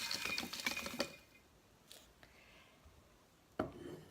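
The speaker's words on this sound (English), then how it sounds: "So I'm going to add the mushrooms first." Dried mushrooms pour through a funnel into a half-gallon jar, a quick rustling clatter for about a second, then a couple of faint taps and one last sharp knock.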